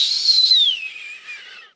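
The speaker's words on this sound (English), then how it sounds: "The Undertaker arrives now with a whistling wind sound effect." A single high, airy whistle glides downward in pitch and fades out over about two seconds, like wind whistling, as The Undertaker's entrance sound at WWF Royal Rumble 1995.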